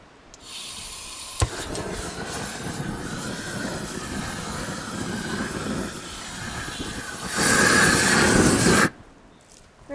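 A propane-powered weed torch wand burns a patch of mint with a steady, close roaring hiss, rising to a louder blast near the end before cutting off abruptly.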